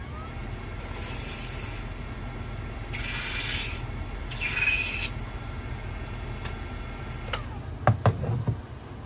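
A file rasps ridges into a Delrin tenon on a pipe stem blank in several short scraping bursts, close and moderately loud, followed by a few sharp taps and knocks at the end.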